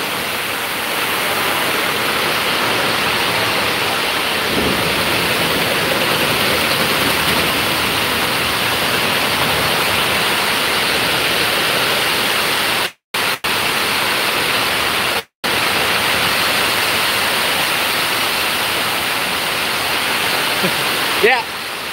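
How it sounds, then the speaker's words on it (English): A steam generator in a barn hisses with a loud, steady broadband rush of escaping steam that runs almost unbroken, cut only by two brief silent gaps partway through. "This is a steam generator."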